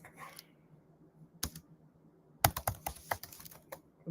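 Bursts of fast typing on a computer keyboard, close and crisp, with a brief flurry at the start, a lone tap, then a dense run of rapid keystrokes to the end; no talking.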